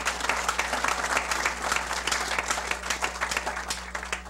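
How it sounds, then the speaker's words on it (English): A community gathering audience applauds steadily, a dense crowd clapping that holds even loudness for the whole stretch, with a low electrical hum underneath and no talking. "So give yourself a round of applause for that."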